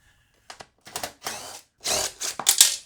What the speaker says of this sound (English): we just need to get these two bolts out, one here and one here.